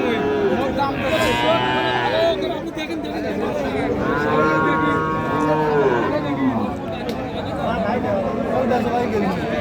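Cattle at a market selling Friesian and crossbreed bull calves low repeatedly, several drawn-out moos rising and falling over steady crowd chatter and nearby talking.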